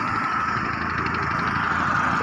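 A boat motoring on the river at Jaflong, Sylhet, with a steady droning engine hum held at an even level throughout, fairly loud and close, no talk.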